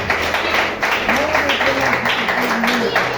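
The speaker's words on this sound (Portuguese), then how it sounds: "Vamos poder aplaudir o Senhor." A church congregation claps along during worship, a steady dense patter of applause with voices and singing mixed over it throughout.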